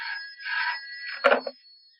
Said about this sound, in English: Oh, no. It's only the phone.